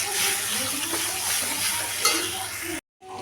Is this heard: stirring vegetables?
yes